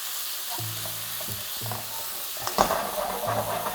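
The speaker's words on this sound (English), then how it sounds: "Now we want to just chuck our paste straight into that and start frying off all that raw garlic" Green curry paste, garlic and onion sizzle and fry steadily in a hot pan while a utensil stirs and scrapes, with a louder burst of sizzling partway through.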